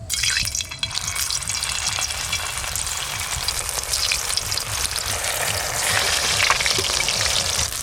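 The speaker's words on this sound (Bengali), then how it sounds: "এবার আমি এইগুলো ফুচকার মতো ভেজে নেব" Loud, continuous sizzling and bubbling of maida dough puffs frying in hot oil, close up and steady throughout with no talking.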